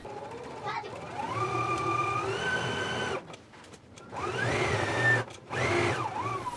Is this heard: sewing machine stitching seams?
yes